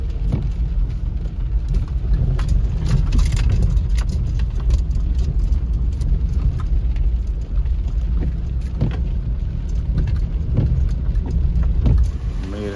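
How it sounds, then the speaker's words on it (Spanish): Rain falls in a steady, dense hiss during a rural outing, with a low rumble that sounds like a car underneath, loud and continuous throughout. "Ahorita nos está lloviendo"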